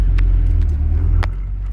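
Loud, steady low engine rumble from inside a Porsche 924S car as it drives and slows to a stop, with a few faint clicks and rattles over the drone.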